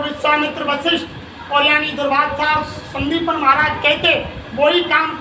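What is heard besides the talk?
No distinct noise like a dog, phone or traffic.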